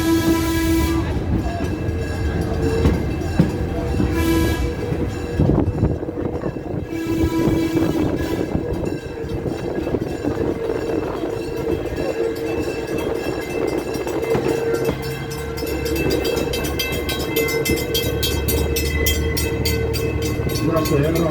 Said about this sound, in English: The bell rings, then the whistle does its signal.